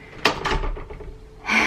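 A door swinging open and knocking into a skirting board, a sharp wooden bump followed by a brief scraping rattle, close and short, then a burst of broader noise.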